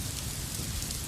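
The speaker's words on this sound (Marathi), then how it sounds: "मुंबईमध्ये विविध ठिकाणी जोरदार पाऊस सुरू झालेला आहे" Heavy rain pours down in Mumbai, a steady dense wash of falling water with no voices over it.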